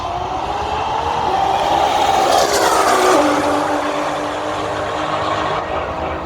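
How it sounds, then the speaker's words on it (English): A Viper and a GTR make a drag racing pass. The loud roar of the engines swells and then fades, with a rising and falling whine in the middle, heard from the track side. "Viper versus GTR. Let's see if they actually make a clean pass."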